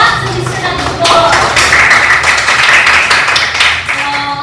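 Students in a classroom teaching demo clap for a classmate, a dense, steady patter of hands from a modest group, close and fairly loud, with a few voices murmuring beneath it.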